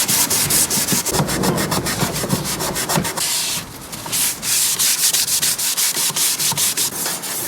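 Rhythmic rubbing strokes as shellac finish is worked off an oak utility hall table with methylated spirit, a loud, close back-and-forth scrubbing that repeats steadily with a brief lighter pause midway.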